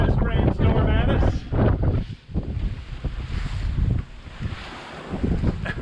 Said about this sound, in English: Mother Nature's got to throw one last rainstorm at us.